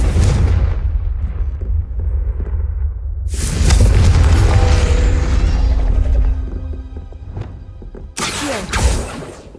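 A Confringo spell explosion in Hogwarts Legacy booms heavily with deep rumbling blasts, a sustained roaring burst in the middle and a final sharp explosive hit, loud and near.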